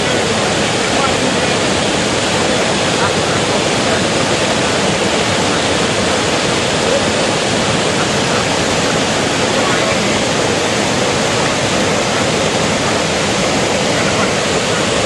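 River water flows steadily beside a spot used for relaxing outdoors, a loud continuous broadband rush lasting throughout with no breaks or other distinct sounds.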